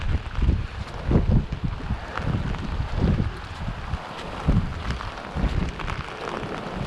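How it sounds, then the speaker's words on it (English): Wind gusts buffet the microphone on the rocky shore at Red Rock Park in Lynn, Massachusetts during Tropical Storm Elsa, coming as irregular low rumbling bursts over a soft background wash, with no voices. "It's getting a little windy."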